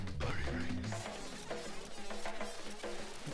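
A bee-like synthesized buzz hums through a strange electronic song, a low droning tone under busy, layered music, fairly faint overall.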